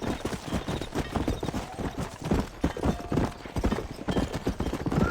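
Horse galloping in the Red Dead Redemption video game, a fast, steady clip-clop of hooves running on continuously through the whole stretch, close and fairly loud, with a brief whinny and faint voices in the background.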